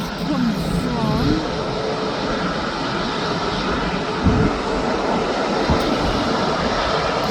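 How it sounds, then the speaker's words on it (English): A Ryanair airliner landing at Birmingham airport gives a loud, steady broadband engine roar with whining tones, a continuous near rumble throughout with a couple of low thumps. "He's now just landed. That Ryanair comes from"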